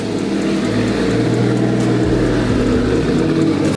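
A modified car with a raspy straight-pipe exhaust runs loud and close, its engine note wavering and climbing as it revs, with no one speaking over it.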